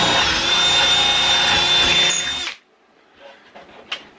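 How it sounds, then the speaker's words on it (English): A power drill boring a hole with a 5/16 bit while securing cabinet doors in a school bus motor home conversion, a loud steady whine for about two and a half seconds, then stopping, followed by faint handling clatter. "we're just going to go ahead and drill a hole."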